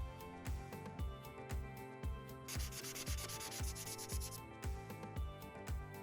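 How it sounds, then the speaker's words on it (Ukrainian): A purple felt-tip marker coloring in a letter on paper, heard as close rhythmic back-and-forth scratchy strokes in a steady repeating pattern, with music playing underneath throughout. "Для початку візьмемо фломастер фіолетового кольору і розфарбуємо першу паличку."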